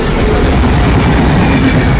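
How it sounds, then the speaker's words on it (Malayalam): A train rolls past a crossing on the Vellayani–Chullamukku track in Trivandrum, heading south to north, a loud steady rumble with dense wheel clatter filling the whole stretch, close and continuous. "ഈ ട്രെയിൻ പടി കടന്നു വരുന്നത് സൗത്ത് ഡയറക്ഷനിൽ നിന്ന് നോർത്ത് ഡയറക്ഷനിലേക്ക്."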